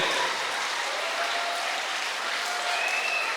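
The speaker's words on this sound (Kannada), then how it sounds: "ಜೋರಾದ ಚಪ್ಪಾಳೆಯನ್ನ ಸುರಿದು ಅಭಿನಂದಿಸಬೇಕು" Steady audience applause at a Kargil Vijay Diwas celebration at SVT College in Karkala, a dense, even rush of clapping hands held at a constant level from start to finish.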